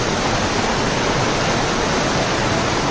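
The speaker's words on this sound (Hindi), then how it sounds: "हम बिल्कुल पास आ चुके जोगनी वाटरफॉल के" Jogini waterfall near Manali, on a March trek, roars close by as a loud, dense, unbroken rush of falling water that fills the whole clip without any talk.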